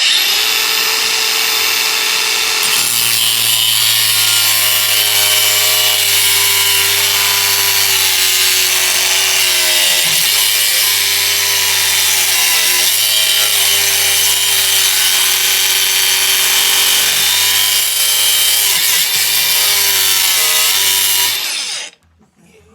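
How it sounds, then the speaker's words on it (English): An angle grinder cuts steel on a stuck Ford Maverick car door, running continuously with a harsh, high-pitched whine, grinding steadily for about twenty seconds before cutting off abruptly. "We're going to cut it with the angle grinder."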